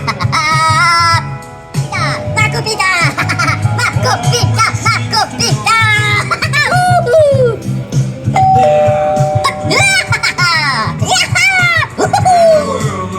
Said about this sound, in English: Okay, ring each doorbell.